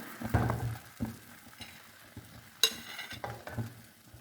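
Egg batter frying in ghee on a pan over a very low flame for Kerala egg ada, soft intermittent sizzling with light scraping taps and one brighter clink midway, quiet and close.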